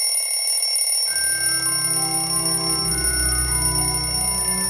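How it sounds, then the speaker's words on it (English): An alarm clock rings continuously in a loud, steady electronic tone, heard alone with no voices and joined by a low buzzing layer after the first second. "the whole scene with the alarm clock"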